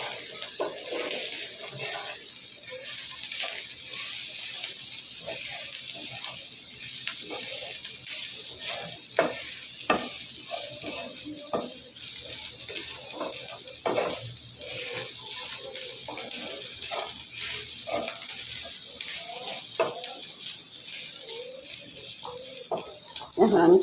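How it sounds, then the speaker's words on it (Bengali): Dried kechki fish fry in mustard oil with turmeric, giving a steady sizzle across the whole stretch with scattered crackles and light utensil clicks close by. "ভালো করে এখন আমি লাল লাল করে ভাজা দেব।"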